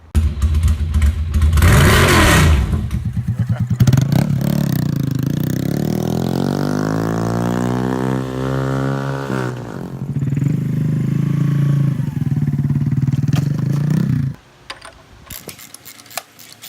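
Honda Grom motorcycle ridden at close range, its small engine roaring loudly and rising through the gears in long climbing pulls, easing off, then revving again before cutting out abruptly near the end.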